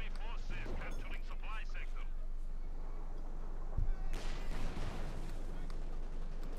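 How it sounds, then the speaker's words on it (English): A tank shell scores a direct hit on a Soviet T-35 heavy tank in Company of Heroes 2: a heavy explosive thump, then a broad crackling burst of impact and debris, over steady battle noise and a commentator's voice. "Direct hit there on the T-35 by the SIS-3"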